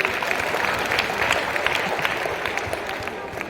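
An audience claps during a Shiv Jayanti lecture: a continuous, fairly loud round of applause from many hands that holds steady and eases slightly toward the end.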